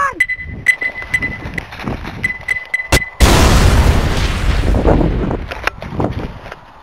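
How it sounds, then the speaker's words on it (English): A Pokemon grenade explodes in a video game with a sudden loud boom midway that decays into a long rumbling roar, preceded by lighter game tones and pops. "it's a Pokemon grenade!"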